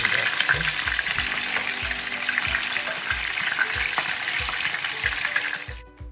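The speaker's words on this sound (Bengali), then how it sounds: "খুব সুন্দর একটা ব্রাউনিশ কালার হয়েছে এটা খুবই অল্প আছে সুন্দর করে ভেজে নিতে হবে আর সবগুলি চিকেন সুন্দর করে এভাবে ভেজে নিছে" Chicken pieces frying in hot oil for lemon pepper chicken, a loud continuous crackling sizzle with a regular low tapping underneath, fading out at the end.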